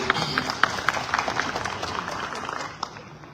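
A crowd at a presidential debate event applauds, a fairly soft, distant wash of many hands with a few sharper claps standing out, steady throughout.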